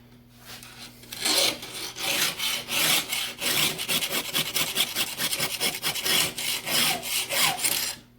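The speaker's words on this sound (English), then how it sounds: "It seems like the file is just vibrating along it and not really cutting as well as it could." A hand file rasps across a chainsaw chain tooth clamped in a sharpening vise, making steady rhythmic back-and-forth strokes that sound close, loud and slightly chattering, with no talk.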